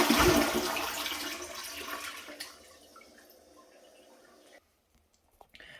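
An early-2010s Aquasource dual flush toilet does a full flush, a strong rushing gush that fades over about two seconds into a softer trickle and gurgle, followed by near silence and a couple of small clicks at the end.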